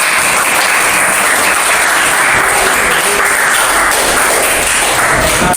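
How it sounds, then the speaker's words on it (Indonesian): Loud, dense applause from a classroom group of students, continuous clapping filling the room for several seconds with no break. "Sudah beri tepuk tangan."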